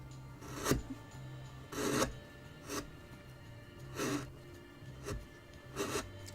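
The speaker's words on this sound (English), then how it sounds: "Now that curve around there is just wide enough to do this with a flat chisel." A flat chisel carves a curve on a wooden owl figure, giving about six rasping, scraping strokes at irregular intervals. Each stroke is a short, close, moderately loud burst with quiet gaps between.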